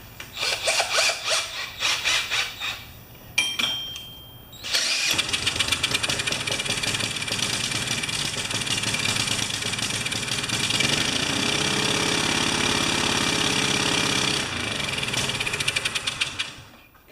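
A Briggs engine on a Karcher pressure washer is cranked by hand a few times and catches. It then runs loud and steady at close range for over ten seconds before winding down near the end.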